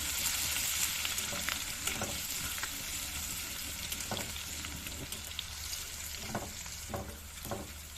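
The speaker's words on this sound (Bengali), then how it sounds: "তাহলে চলো, তেল গরম হয়ে গেছে, ওই তেলের মধ্যে দিয়ে দেবো রসুন থেতো" Crushed garlic frying in hot oil in a wok, a continuous bubbling sizzle with periodic scraping taps from a spatula, moderately quiet and with no voices.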